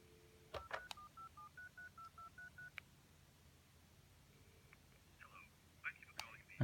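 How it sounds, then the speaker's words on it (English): A 1988 BT Tribune 9801AR push-button telephone redials the last number: about ten short DTMF tones play in a quick, evenly paced run, then after a pause a few more tones and clicks come through faintly. Soft voices murmur in the background. "And last number redial."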